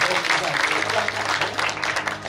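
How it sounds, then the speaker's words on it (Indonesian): A crowd claps steadily at a wedding celebration, a dense continuous patter lasting a couple of seconds, with voices mixed in underneath. "Tepuk tangan dong"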